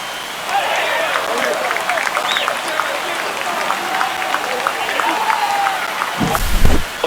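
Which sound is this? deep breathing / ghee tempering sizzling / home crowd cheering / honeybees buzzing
home crowd cheering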